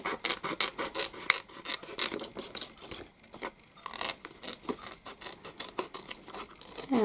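Small scissors cutting around a vellum sentiment in a papercraft project, heard as close, quiet rasping snips in irregular bursts with a brief pause midway and no talking.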